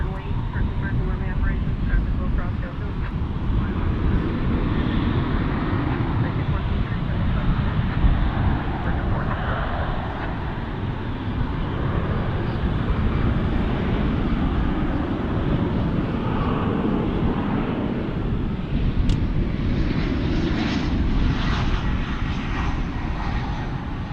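Boeing 777 airliner, American 132, at Dallas Fort Worth airport, roaring loudly and steadily throughout as its engines pass close by, with a faint voice talking underneath.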